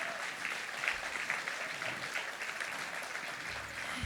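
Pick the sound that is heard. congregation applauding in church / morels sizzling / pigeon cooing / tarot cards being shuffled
congregation applauding in church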